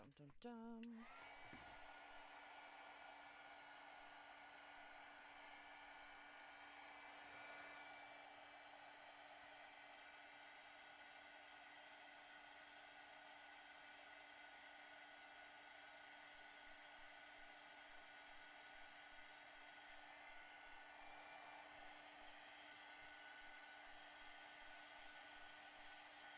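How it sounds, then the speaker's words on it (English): A heat gun blows in a steady, even whoosh with a faint whine for embossing on a craft page. The sound is quiet and continuous after a brief click at the start. "Okay, let's use the heat gun."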